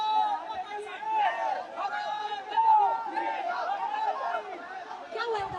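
Chaotic crowd at a protest at Jantar Mantar in Delhi, a dense babble of many shouting and chattering voices, fairly close and continuous, with no single voice standing out.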